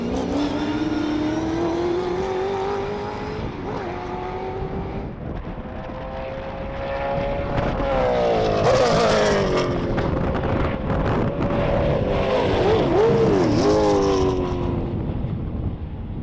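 Race cars at round 4 of a 2025 Regional Extreme Festival track meeting roar by loudly, engine notes climbing and sweeping past in overlapping waves with shifting pitch, no voices.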